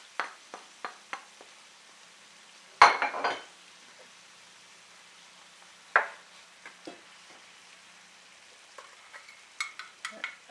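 A spoon stirs tomato puree, garam masala and paprika powder into a pot of chicken soup, giving sharp scraping clinks against the pot in irregular bursts, with a few louder strokes and quiet gaps between.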